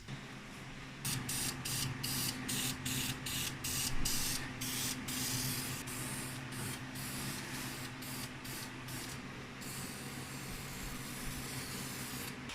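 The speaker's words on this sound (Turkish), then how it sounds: "Uzaktan spreyimize sıkacağız ve vernik işlemini bitireceğiz." A spray can applies varnish to a painted engine in short repeated bursts of hissing spray, close and loud, with a steady low hum beneath and no talk.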